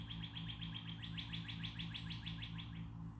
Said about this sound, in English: A lot of birds chirping right here.